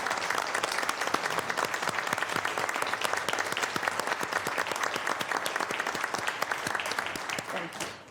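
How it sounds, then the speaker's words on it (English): Sustained applause from the audience at a public commission meeting, dense steady clapping at moderate distance that holds throughout before tapering slightly at the end. "I think they deserve some applause from us."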